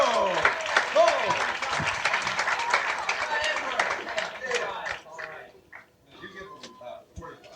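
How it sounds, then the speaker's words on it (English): A comedy club audience in 1983 gives a loud round of applause and cheers to welcome a comedian to the stage, with dense clapping that thins out near the end while voices call out. "Let's have a nice big round of applause."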